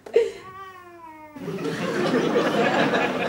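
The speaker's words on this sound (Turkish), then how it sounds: "Kedidir ya, kedidir." A cat meows near the start with a clear, rising-falling harmonic cry lasting about a second, then a broad noisy wash of sound takes over; no words are spoken.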